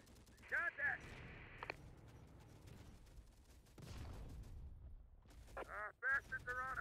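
Gunfire bursts in the Terminator: Dark Fate Defiance strategy game, sharp cracks mixed with game effects and tonal alert sounds, playing fairly faintly without spoken commentary.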